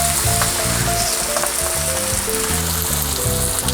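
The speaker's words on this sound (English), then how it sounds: "Now we're going to add in 1 jar of traditional tomato sauce. Turn it down a little bit so it doesn't pop." Browned, drained ground meat sizzles loudly in a pan as traditional jarred tomato sauce goes in, a dense continuous crackle and spatter held close under steady background music.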